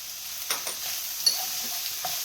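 Mushrooms and carrots sauté in a pan with a cup of beef broth seasoned with salt and pepper, giving a soft, steady sizzle with a few faint stirring clicks.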